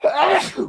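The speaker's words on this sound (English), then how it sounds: "I'm about to sneeze." A single loud, close sneeze from a man, a short breathy burst with a voiced edge that trails off within a second.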